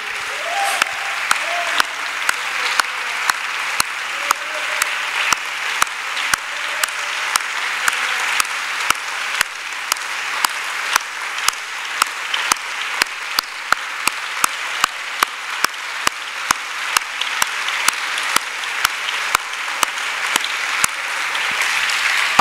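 Congregation at a church convocation applauding steadily for over twenty seconds, dense sustained clapping from many hands with sharp individual claps standing out, moderately loud and continuous.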